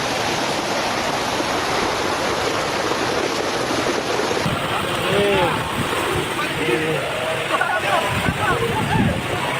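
Floodwater from an overflowing river in Gringsing village roars and churns in a dense, constant rush, with a voice talking faintly over it.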